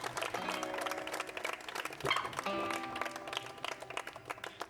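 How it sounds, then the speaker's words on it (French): A group in Kinshasa clapping for themselves at a tennis gathering, steady dense applause with scattered sharper claps, continuous throughout with some background voices. "Est-ce que vous pouvez essayer de vous applaudir pour vous-même,"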